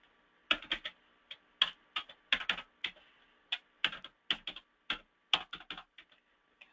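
Fingers typing on a computer keyboard while entering client data into an office system, irregular bursts of close, crisp key clicks with brief pauses between words.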